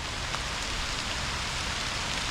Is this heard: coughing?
no